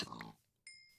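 A pig in Minecraft gives a short oink, then a brief tonal game sound follows in a near-silent gap. No talk is heard.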